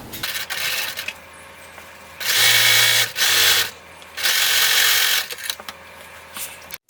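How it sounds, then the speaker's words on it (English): A home sewing machine runs top stitching across a zipper pouch lining in three bursts of steady, whirring stitching separated by brief pauses, with light mechanical clicks and handling sounds between runs. "I'm just going to sew a little top stitch across this right here to close that hole."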